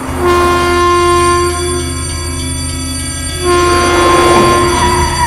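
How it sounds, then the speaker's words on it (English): A toy train in a LEGO City scene rolls through a railroad crossing, its sustained horn-like tone steady and fairly loud, fading slightly midway and swelling again, with no talking. "Railroad crossing."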